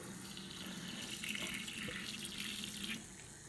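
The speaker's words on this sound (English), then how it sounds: "I'm going to pull this lever here to get the water to flow." Water runs steadily from a sink faucet, a close, continuous hiss and splash that grows a little then drops off near the end.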